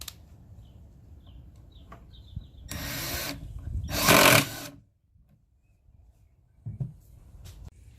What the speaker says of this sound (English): I'll change it out to a regular Phillips bit, and I'll drive in the screw